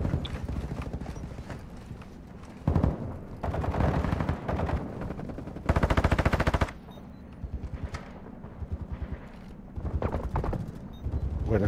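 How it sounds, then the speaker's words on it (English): Rapid bursts of automatic gunfire in a video game firefight inside a building, with shots aimed at its lower floor. The fire comes as loud, clattering volleys with short pauses between them, and the heaviest sustained burst lands near the middle. "They're shooting at the bottom of the building"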